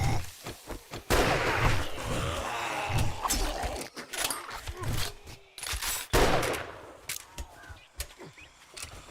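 Shotgun fire in the video game 7 Days to Die, heard as a close, loud barrage of overlapping gunshots and impacts with a few gaps, then several more blasts near the end.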